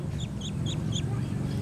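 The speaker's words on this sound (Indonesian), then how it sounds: "bebek mentok" Muscovy ducks on a farm make a short series of about four high, squeaky calls at an even rhythm over a steady low background rumble.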